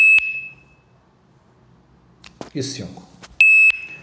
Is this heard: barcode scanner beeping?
yes